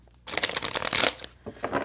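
Tarot cards shuffled by hand in a loose, riffling burst of papery flutter, pausing briefly before a second softer run of shuffling, close and alone.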